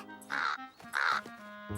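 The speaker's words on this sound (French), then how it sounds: "Ça, c'était un gros oiseau" A big bird gives two loud, harsh crow-like caws in quick succession, close by, with a third call starting at the end in a cartoon outdoor scene.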